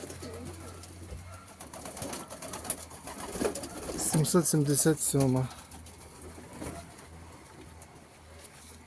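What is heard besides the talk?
pigeon cooing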